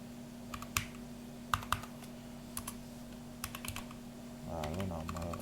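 Keys on a computer keyboard are tapped in short, scattered bursts of distinct clicks over a steady background hum, close and fairly quiet, with a low muffled voice stirring near the end.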